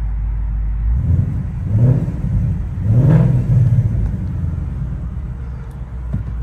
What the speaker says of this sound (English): Let's get some baby revs real quick